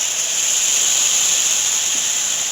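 Ground tomato paste sizzles in hot oil with pepper, cumin and turmeric for rasam, a loud, steady hissing fry that holds evenly without pause and no talking.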